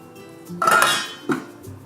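A toy kitchen pot rattles and clinks as a head of cabbage drops in, a short clatter of light plastic or metal followed by a smaller knock, close and fairly loud with no talking.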